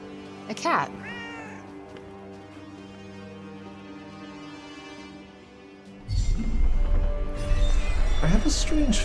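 A cat meows in the video game Forspoken, with several clear meows early on, then louder game sounds and a voice take over in the second half.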